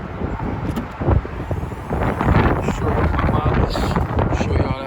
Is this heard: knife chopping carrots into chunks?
no